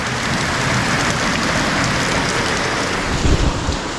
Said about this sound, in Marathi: कसन जोर पाऊस आयला ओ बापरे